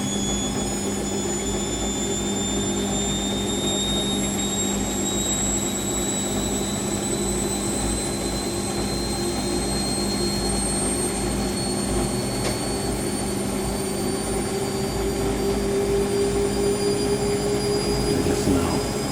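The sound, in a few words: Siemens WH54080 Extraklasse washing machine spinning, cottons 90ºC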